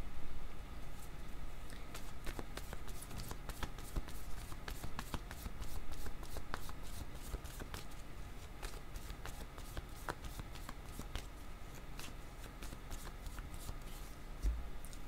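Cards being shuffled by hand for a card reading, a steady run of soft riffling and flicking taps close up with no talking.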